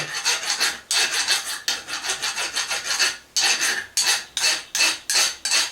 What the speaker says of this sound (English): let's file test this